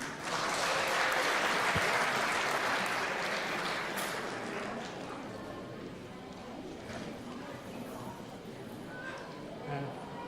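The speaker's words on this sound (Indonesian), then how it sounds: "Tepuk tangan dong." A crowd applauding steadily at an evening community gathering, loud at first and gradually tapering, with some chatter mixed into the clapping.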